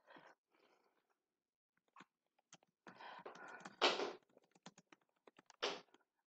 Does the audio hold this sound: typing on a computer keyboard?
yes